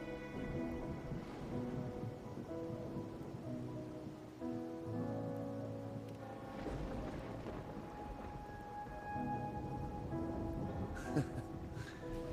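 Steady rain falls in a Wuthering Waves game scene during a rainy night, a soft continuous wash with layered musical tones over it and a few brief brighter accents near the end.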